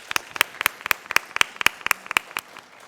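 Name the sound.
audience applause for poet Shakeel Azmi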